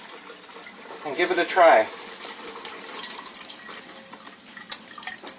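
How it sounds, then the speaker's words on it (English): Running water pours from a Kangen K8 water ionizer, a short gush swelling near the start and then settling into a steady, moderately loud stream while a person talks over it. "So now we'll make some Kangen water"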